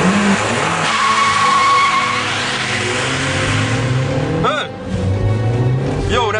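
A 75 hp 1.4-litre Seat Ibiza driven hard, its engine revving and straining loudly with gear changes and tyre squeal, heard from inside the car while people talk over the noise.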